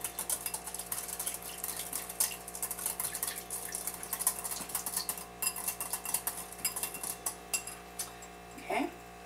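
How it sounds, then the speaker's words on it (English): Whisking salad dressing with salt in a bowl: quick, irregular metal-on-bowl clinks and scrapes tapping along steadily at close range, with faint kitchen background underneath. "we're just going to whisk that together."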